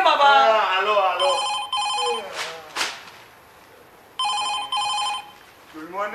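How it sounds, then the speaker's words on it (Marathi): A telephone rings in two short bursts of bright, trilling electronic tones inside a home, among lively voices and a sharp whooshing crack, in a Marathi one-act stage drama. "सुशील, ए सुशील, अरे फोन घे बाबा."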